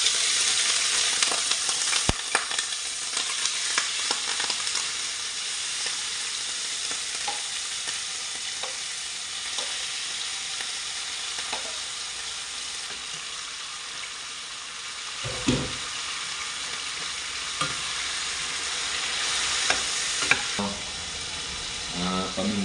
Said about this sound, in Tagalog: Sundan natin tong giniling na karne. Kunti lang yung mantika na nilagay ko